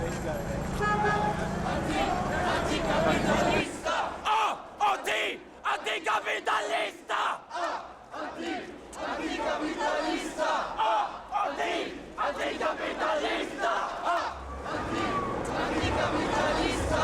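Crowd of demonstrators at a protest march, loud massed shouting and chanting in bursts with car horns tooting amid chatter, sustained throughout.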